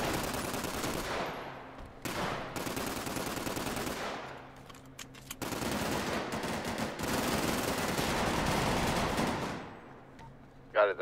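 Rapid gunfire from a GTA roleplay game rattles in long sustained bursts with brief gaps, loud and continuous for most of the stretch before cutting off near the end.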